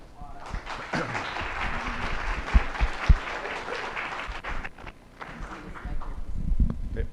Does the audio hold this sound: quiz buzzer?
no